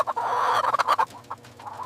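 Chickens on a desert farm peck finisher feed from plastic pans, a busy flock of rapid beak taps on plastic mixed with clucking, fairly close and steady throughout.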